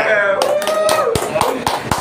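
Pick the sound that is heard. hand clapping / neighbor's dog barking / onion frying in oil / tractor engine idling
hand clapping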